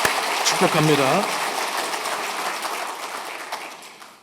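A church congregation at a Sunday service claps in welcome, a loud burst of applause that slowly fades, with a short spoken phrase near the start.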